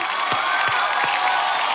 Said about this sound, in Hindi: एक बार जोरदार तालियां हो जाए विपिन के लिए।